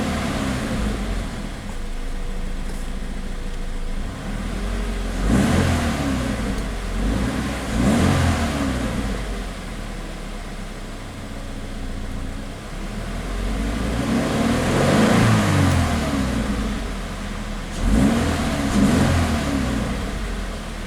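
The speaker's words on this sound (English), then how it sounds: "Very quick revving engine, and I love that boxer snarl." A 2014 Scion FR-S with a boxer engine and six-speed revs repeatedly in a series of quick sharp rises and falls, close and loud, with no talk.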